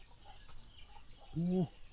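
A rooster crows once, short and fairly close, in a quiet morning village ringed by mountains and a river, with faint background ambience before it.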